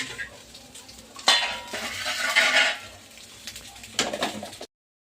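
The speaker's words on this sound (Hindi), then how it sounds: "चावल बच गया था जो बनाए थे दोपहर के टाइम में, तो ये मुस्कान फ्राई कर रही है। देखिए प्याज वाज डाल के।" Leftover rice is stir-fried with onions in a pan, with a spoon scraping and clattering against the metal in irregular bursts over a light sizzle, close up.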